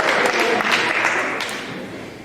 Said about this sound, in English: Everyone give Brendan a round of applause there.